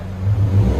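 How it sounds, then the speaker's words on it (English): A Chevrolet Camaro modified to be extra loud revs briefly, a deep, close engine roar swelling over under a second. "Rev it."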